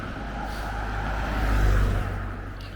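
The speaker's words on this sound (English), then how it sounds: "there's just car after car after car" Steady roadside traffic on a busy road near the Wiltshire and Dorset county border in southern England, with cars passing close by in a continuous rushing drone that swells and fades, no talk.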